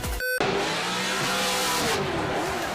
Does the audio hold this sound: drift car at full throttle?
yes